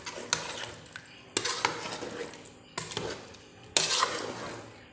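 A spoon scrapes and stirs through potatoes, peas and chicken in a pot in four bursts, metal clinking against the sides, with a faint sizzle underneath.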